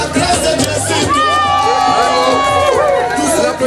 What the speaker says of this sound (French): Les applaudissements, s'il vous plaît, les applaudissements